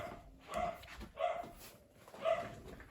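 A pet dog barks three times in an indoor home setting, each bark a clear moderate burst spaced about a second apart, with no talking.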